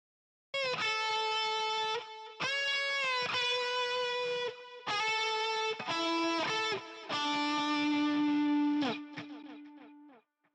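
A guitar plays short phrases of bright, harmonically rich notes, each trailed by eighth-note delay repeats that grow darker and duller as they fade. There are about five bursts with gaps, and the last note rings out alone.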